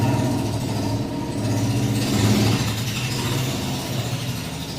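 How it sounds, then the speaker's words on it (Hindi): A motorbike engine idles and revs outdoors nearby, a steady mid-low rumble running throughout with a slight swell in the middle. "ये वापस आ गया अपनी बाइक पे, पूरी बात नहीं होने देता जी।"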